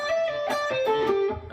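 An electric guitar playing a slow blues rock lick with a slightly driven tone, a few notes sliding and stepping downward with plucked attacks, sustained and close up.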